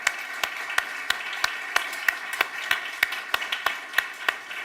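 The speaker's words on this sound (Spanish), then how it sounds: "Les damos un aplauso de bienvenida." Members of a church congregation give a welcoming round of applause in a hall, heard as steady scattered clapping with sharp individual claps standing out at a regular pace throughout.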